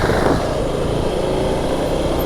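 A Husqvarna Svartpilen 701's single-cylinder LC4 engine runs at close range, a steady, smooth, loud hum with a brief slight swell at the start.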